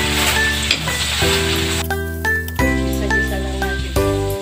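Garlic and onion sauté in a hot pan for pork caldereta, a steady loud sizzle with bright clinks of a utensil stirring against the pan throughout.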